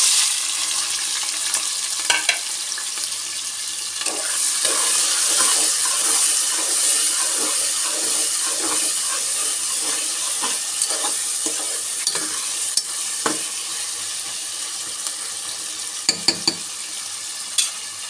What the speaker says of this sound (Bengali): প্রথমে আমি দিয়ে দিলাম তেল তেলের মধ্যে আমি দিয়ে দিব আদা বাটা রসুন বাটা আর হচ্ছে পেঁয়াজ